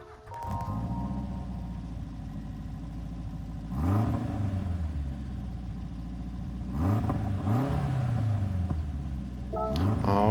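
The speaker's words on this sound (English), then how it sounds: "I'm going to click on this car, we'll listen to the startup sound," A 1980 Renault R5 Turbo in Gran Turismo 7 starts up and idles with a steady rumble, then gives two or three sharp throttle blips that rise and fall, heard close and with no one talking.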